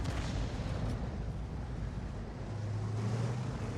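A tank cannon firing in World of Tanks: a heavy, continuous rumbling boom with a dense low-frequency roar that fills the whole stretch, loud and sustained rather than a single sharp crack.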